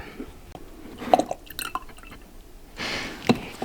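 The last bit of apple juice diluted half and half with water is poured into a glass, with scattered drips, splashes and liquid trickles, close and fairly faint, and no talk.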